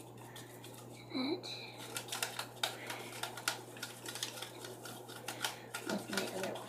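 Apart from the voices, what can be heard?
mixing soap slime ingredients with salt in a bowl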